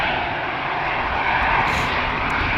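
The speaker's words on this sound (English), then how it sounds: "I do like the sound that those Neos make when they take off." An A320neo-family jet airliner takes off at Amsterdam Schiphol, producing a steady, loud engine roar with a broad rushing tone that holds throughout and no speech over it.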